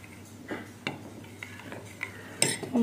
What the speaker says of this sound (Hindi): तो हम इसे मिक्स कर देते हैं